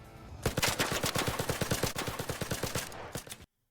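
Rapid automatic gunfire in the shooter video game Arc Raiders, a loud dense burst of repeated shots that runs for about three seconds before cutting off abruptly.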